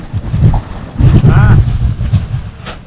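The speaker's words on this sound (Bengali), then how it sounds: "অনেক বাতাস।" Strong wind on Saint Martin Island buffets the microphone in loud, continuous rumbling gusts, with a voice briefly heard through the roar.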